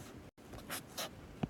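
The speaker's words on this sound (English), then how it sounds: "So let's write this out." A pen or marker scratches out a math equation for cross multiplying a proportion during a ratios lesson, heard as a few short, scratchy strokes close by with no talking.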